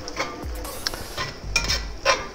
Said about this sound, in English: let's jump right over here to the cast iron skillet where we have 2 pounds of ground beef going.